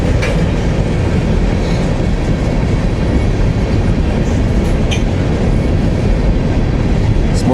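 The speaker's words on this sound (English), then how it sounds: "there's a whole bunch of tankers coming" A freight train of tanker cars rolls past on the rails, loud and close, with a steady rumble and clickety-clack of wheels and faint squeals throughout.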